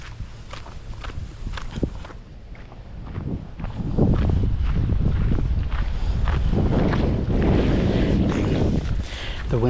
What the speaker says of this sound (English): The wind's against me here.